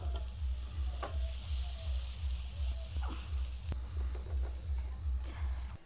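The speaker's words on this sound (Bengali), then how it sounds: "এবার আমি আস্তে আস্তে ভেজে নেবো" Steady sizzling of soybean chunks frying in a pan, with occasional stirring scrapes and a rhythmic low hum underneath; no talking.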